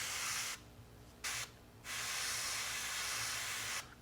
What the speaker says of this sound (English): spray a little bit on the cockpit side of the wheel hump so we can do a little bit of chipping there